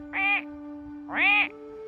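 A human voice imitates a crow, giving two separate drawn-out caws with a short pause between them, against a quiet background.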